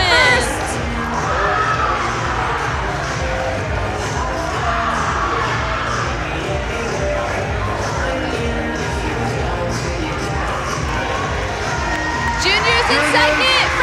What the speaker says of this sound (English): Crowd's going crazy for them right now.